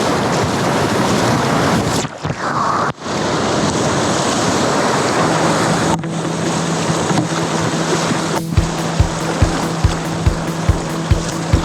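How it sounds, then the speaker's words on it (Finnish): River water rushes and slaps around a packraft on the Ivalo River in Lapland, loud and turbulent with wind buffeting the microphone, then a rhythmic series of knocks near the end. "Vesi vähän nousi, koska on isompaa aalto."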